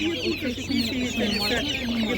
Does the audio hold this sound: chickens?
yes